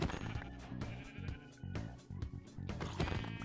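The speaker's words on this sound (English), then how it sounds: "Three sheep!" Sheep bleating in the Minecraft video game, several wavering bleats in a row, loud and close, with no talk.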